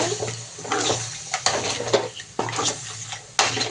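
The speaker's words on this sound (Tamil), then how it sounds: "நண்டு போட்டு நல்லா கிண்டி விட்டுக்கலாம் சிம்லேயே வச்சு கிண்டுங்க" Crab masala curry with drumstick leaves being stirred in a pot over low heat: a close, continuous metallic scraping with spoon clinks and knocks against the pot, swelling in repeated short strokes, no voices.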